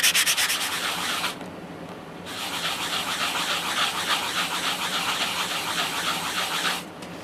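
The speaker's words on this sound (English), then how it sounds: "you take your sponge or your sandpaper and you just put your ring down and you just sand that down real" A coin ring is sanded with sandpaper or a sanding sponge, making loud, close, rapid rhythmic rubbing strokes with a brief pause partway through.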